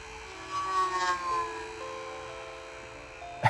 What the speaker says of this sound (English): Let's see the electronic groan again.